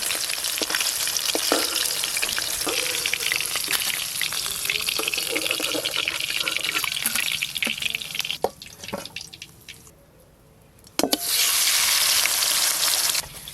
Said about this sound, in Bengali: ইলিশ মাছগুলো একটু হালকা করে ভেজে নেব।